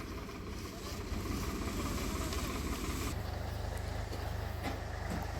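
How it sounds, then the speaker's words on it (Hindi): Two model 735 tractors run their engines together, a steady, loud low rumble with a rhythmic throb that thickens slightly partway through, with no talk over it. "अब ये दोनों ट्रैक्टर यहाँ खड़दू खाना करेंगे।"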